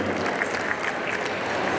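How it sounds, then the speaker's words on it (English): A crowd at an indoor pow wow exhibition in a shopping mall applauds Southern traditional women dancers, a brief, even wash of clapping at moderate loudness, heard from a distance. "Another big round of applause for these Southern traditional ladies."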